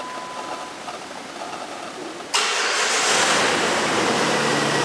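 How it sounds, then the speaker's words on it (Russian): Engine of an unmanned ground vehicle starting up: after quiet background hiss, a sudden loud broadband rush kicks in and holds steady as a continuous close roar for the rest, no talking. "Включение двигателя."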